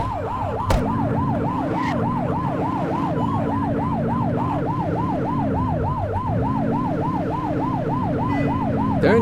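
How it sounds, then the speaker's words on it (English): Continuous loud wailing police car siren from the video game The Precinct, sweeping up and down in rapid regular cycles over a steady vehicle engine rumble, with no voices. "Turn that siren off"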